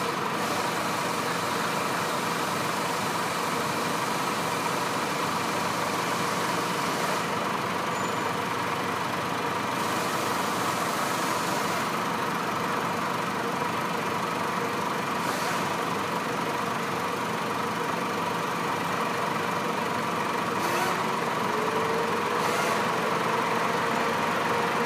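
A 2007 Chrysler PT Cruiser with a 2.4 engine idles steadily for the whole stretch, an even close hum with no talking.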